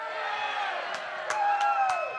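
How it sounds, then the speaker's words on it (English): A studio audience on a comedy panel show cheers and whoops in a swelling ovation, with a few sharp claps and shouts breaking through the roar. "Let's hear that ovation."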